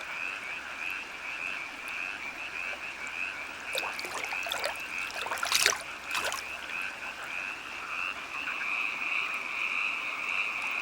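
At night, a constant chorus of Oriental fire-bellied toads and tree frogs drones steadily, while a few loud, close, rasping croaks burst out in a cluster near the middle.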